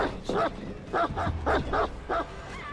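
A dog barks in Dead by Daylight, giving a series of about six short, sharp yips and woofs in an uneven rhythm, close and fairly loud, with brief gaps between them.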